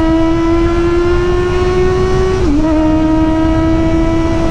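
A steady, high-pitched Kawasaki Ninja ZX-25R motorcycle engine drone at cruising speed, loud and close, with a brief dip in pitch as it shifts before resuming.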